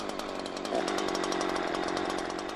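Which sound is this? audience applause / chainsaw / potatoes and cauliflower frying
chainsaw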